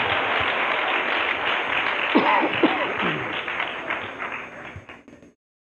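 Steady audience applause fills a church for several seconds, a dense wash of clapping that gradually thins and fades out.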